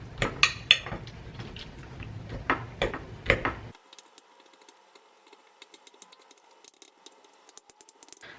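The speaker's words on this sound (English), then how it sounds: "So first I do a little cut with knife next to the bone on each piece. And after I use a fork to do a little cuts also." A knife and fork clink and scrape against a plate while scoring raw chicken pieces near the bone, a series of sharp close taps and scrapes, followed by quieter, fainter tapping.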